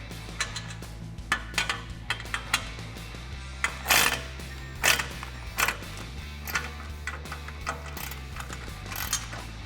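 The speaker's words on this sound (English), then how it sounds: "go ahead and grab your 10mm socket and wrench and tighten it down" A 10mm socket wrench tightening the clamp on a Jeep Gladiator JT exhaust tip, a series of quick metallic ratcheting clicks in irregular bursts over a low steady hum.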